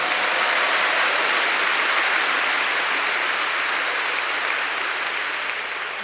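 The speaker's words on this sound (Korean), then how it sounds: "Give them a big round of applause." Loud, dense applause from a large audience at an event, a steady wash of clapping that holds for the full six seconds and fades slightly toward the end.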